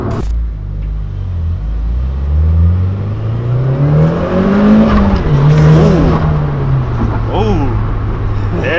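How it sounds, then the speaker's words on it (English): A Nissan S-chassis car accelerates hard with its turbo spooling, engine pitch climbing and falling through the gears in a loud, steady in-car rumble, with people talking over it. "There's the turbo."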